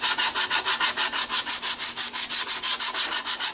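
Hand sanding a green wood turning with 100 grit sandpaper, close rhythmic rasping strokes, about six per second, steady and even, with no talking.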